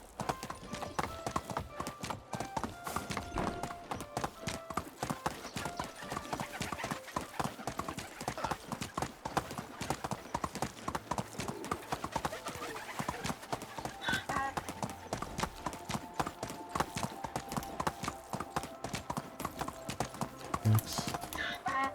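Horse hooves clip-clop in a steady rhythmic trot while riding in the medieval village game Medieval Dynasty, continuous and moderately loud for over twenty seconds, with a quiet whinny and occasional faint talking beneath.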